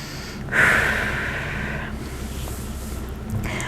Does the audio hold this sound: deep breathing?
yes